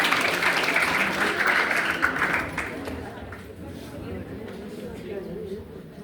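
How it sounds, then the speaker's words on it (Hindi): A crowd claps at a women's day award ceremony, a dense burst of applause that fades after a few seconds while a speaker talks over the hall. "एक बार उनके लिए जोरदार तालियां"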